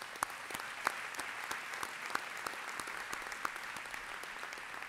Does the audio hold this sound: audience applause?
yes